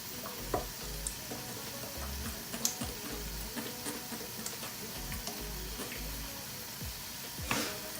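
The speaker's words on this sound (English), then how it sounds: "So now I will prepare my oil for frying the plantain." Plantain frying in hot oil in a Nigerian home kitchen, a soft, continuous sizzle with faint ticks and occasional low bumps of handling, quiet and close, with no talking.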